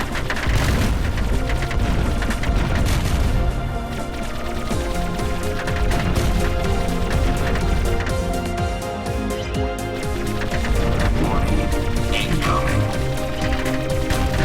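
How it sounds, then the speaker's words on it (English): A powered-up super shot unleashed in the side-scrolling space shooter Syder Arcade, a dense barrage of booming blasts and rapid fire layered over constant game music, loud and continuous for the whole stretch. "we did power up our super shot, so I might as well use it on this guy"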